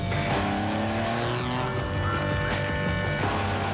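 A TVR Sagaris sports car drives fast with a loud, sustained engine roar and squealing tyres, alone and close throughout.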